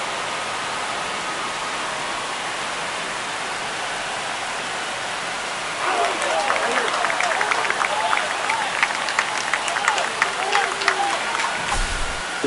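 Broad, hissing crowd noise in a baseball stadium from the MLB The Show 25 video game swells halfway through after a tied-game home run, with cheers and whistles rising over the steady background roar.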